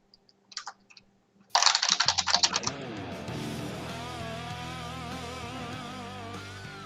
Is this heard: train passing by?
no